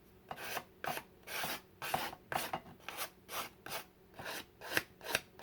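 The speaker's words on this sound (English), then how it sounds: "I'm going to lightly sand it." Fine-grit sandpaper rubs lightly over a small junk journal cover in a steady series of short, soft rasping strokes, close and quiet, with no talking.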